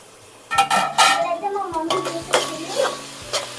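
Frying onions stirred in a pan for Telangana-style natukodi pulusu: a spoon scrapes and clinks against the metal at close range over a soft sizzle, in uneven strokes.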